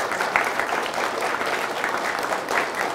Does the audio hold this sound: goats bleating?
no